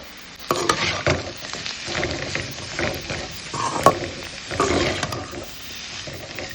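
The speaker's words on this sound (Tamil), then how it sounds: "நறுக்கி வச்ச பாவக்காவை இதுல சேர்த்துடலாம். சேர்த்துட்டு இதை நல்லா வதக்கி விடுங்க." Sliced bitter gourd sautéing in hot oil with golden onions for a crispy fry: a steady sizzle with bursts of crackling and scraping as the pan contents are stirred, close and moderately loud, with no voice.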